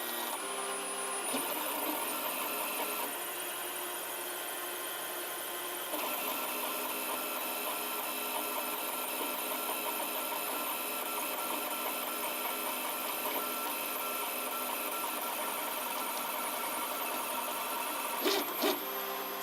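A 3D printer runs steadily near the end of a six-and-a-half-hour print, its stepper motors giving a continuous whirring, buzzing drone with shifting tones as the head moves, plus a brief louder burst at the very end.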